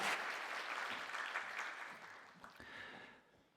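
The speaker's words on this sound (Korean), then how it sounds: "하나님께 영광의 박수를 올리겠습니다." Congregational applause during a Sunday church service, a dense wash of clapping that starts full and gradually thins and fades out over a few seconds.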